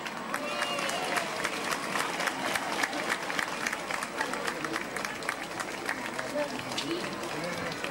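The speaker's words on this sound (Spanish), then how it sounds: "Recibís ahora, en este fuerte aplauso, el cariño de todos los niños de Guadalajara." Crowd applauding at the Three Kings parade in Guadalajara, a dense, steady wash of clapping that runs unbroken throughout, with crowd noise mixed in.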